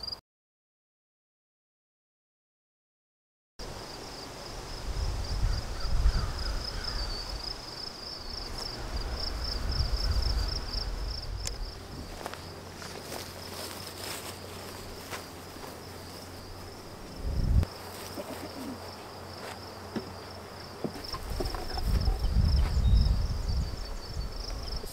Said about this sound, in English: But this is what you may run into: some of the bees congregating at the old spot.